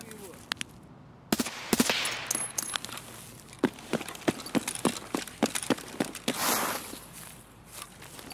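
Video game gunfire: bursts of sharp, rapid shots in uneven clusters, loud and close, with brief pauses between volleys and a speaking voice now and then.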